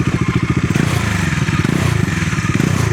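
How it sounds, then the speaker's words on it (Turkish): A Bajaj Dominar D400 motorcycle engine fires up and settles into a loud, close, rhythmic idle thump with some rattling clatter. "D250'nin de D400'ün de sesi gerçekten çok güzel. Hatta hemen hızlı bir şekilde bir çalıştıralım."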